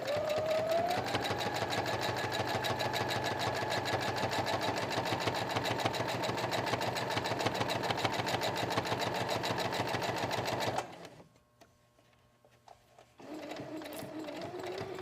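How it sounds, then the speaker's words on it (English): Sewing machine with a zipper foot stitching around stabilized fabric beside piping, a loud steady rapid hum running for about eleven seconds, stopping briefly, then resuming near the end. "And we're just going to go ahead and just sew around."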